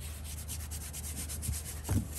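Rough, sun-damaged car paint rubbed by hand, giving a steady, close scratchy rasp like sandpaper with a low rumble beneath and a couple of firmer strokes near the end.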